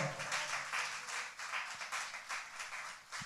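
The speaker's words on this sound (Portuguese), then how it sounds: "Vamos dar uma linda salva de palmas ao Senhor" Hands clapping together steadily in a church congregation, a dense continuous patter of many people held at an even level throughout.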